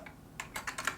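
Quick bursts of keystrokes on a computer keyboard while writing code, starting with a few isolated taps and then a rapid run of close, crisp clicks, with no talking.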